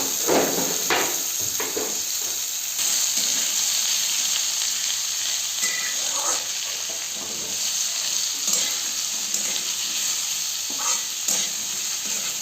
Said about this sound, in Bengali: এরপর আমি মিডিয়াম ফ্লেমে আস্তে আস্তে ভাজতে থাকবো আলুটাকে